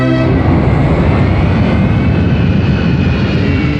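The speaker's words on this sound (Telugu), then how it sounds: "విమానం వచ్చే టైం అయిపోయింది." A loud, steady airplane engine roar at an airport, holding a constant drone throughout with no voices over it.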